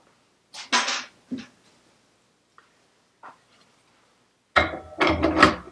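A foot pedal being fitted back onto a Clarke CML5 lathe gives a few sharp mechanical clunks and rattles, a short quiet stretch with faint ticks, then a longer burst of loud metallic clattering at the end.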